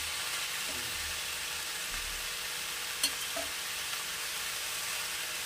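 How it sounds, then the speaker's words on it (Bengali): Ingredients for Bengali chapri ghonto fry in a pan with a constant, even hiss and sizzle, interrupted by a single faint tap of a utensil, with no voices. "আবার একটু মিনিট দুই তিন ভাজা ভাজা হবে"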